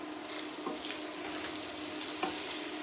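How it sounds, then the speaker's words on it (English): Pak choi sizzles steadily with garlic and ginger in a hot pan, a constant close-up frying hiss broken by a few light stirring scrapes. "So I'm going to put my pak choi in there with my garlic and my ginger."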